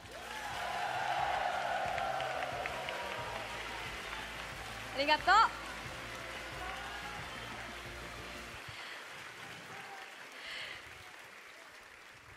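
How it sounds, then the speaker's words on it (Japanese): A concert audience at a live show applauds the dancers in a steady, dense wash of clapping that thins after about nine seconds, with a brief spoken thank-you over it midway. "それではまずはダンサーズに大きな拍手"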